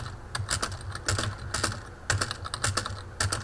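Computer keyboard keys, the spacebar among them, pressed in quick irregular bursts while drawing a pattern onto a character in a game editor; clicky taps come in clusters with short pauses, close and clear, with no talking.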